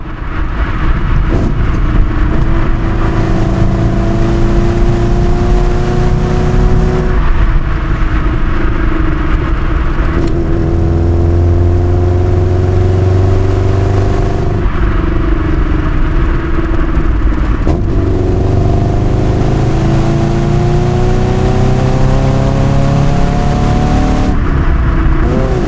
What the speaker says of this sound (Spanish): acelerar, escuchar el sonido del boxer